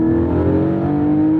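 The naturally aspirated engine of a Porsche 718 Spyder revs loudly and close, holding a strong, steady high-pitched tone that climbs slightly throughout, with no voices.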